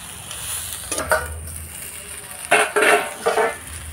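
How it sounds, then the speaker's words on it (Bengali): Cauliflower with curry leaves stirred in a frying pan, a few distinct scraping clinks of a spoon against the pan over a soft sizzle. "এবার পাতার সাথে ফুলকপি আর এই ভালোভাবে মিশিয়ে নিতে হবে কারি পাতার সাথে"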